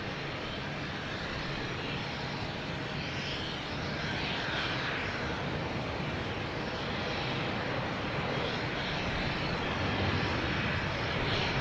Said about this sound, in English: we have Delta taking off, heading to Miami, 737-800, flight 776